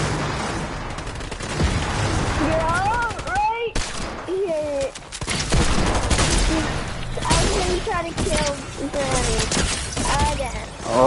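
Submachine-gun fire in a video game shootout, heard as loud rapid bursts of shots broken by short gaps, with metallic whistles and ricochet-like tones over the top.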